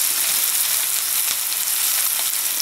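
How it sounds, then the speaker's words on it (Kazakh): Carrots and onions fry in a pot with a steady, loud, close hiss and sizzle that never lets up, and no one speaks. "Аздап сәбізі мен пиязын қуырып алыңыз."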